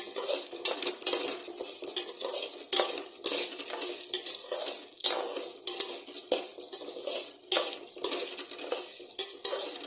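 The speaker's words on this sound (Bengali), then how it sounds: "এটাকে ভালো করে নাড়ব" Chicken biryani being stirred in a pot with freshly added soaked and dried scented joha rice, a utensil scraping and clinking against the metal over a continuous sizzle, with steady repeated strokes throughout.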